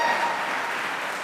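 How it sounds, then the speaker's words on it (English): Theatre audience clapping in a steady, dense burst of applause that fills the room loudly from start to finish, with no voices over it. "you can stamp your feet, you can holler, you can clap"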